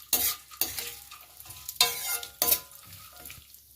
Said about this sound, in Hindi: अब इसी बचे हुए घी में हम ये जितने भी सीड्स हैं ये सब कुछ डाल देंगे, तो भी भून लेंगे